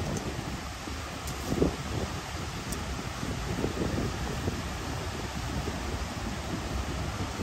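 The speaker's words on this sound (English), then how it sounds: "Come on, wind, work with me here." Steady outdoor wind rushes against the microphone as a dense, constant broadband roar with slight gusty swells and no speech.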